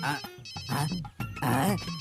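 A telephone rings in a home, a repeating electronic ringtone in short bursts, loud and close, with someone talking over it.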